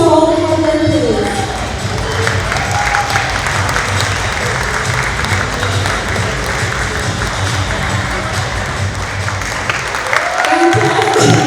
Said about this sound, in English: Big round of applause for all the hard work, please.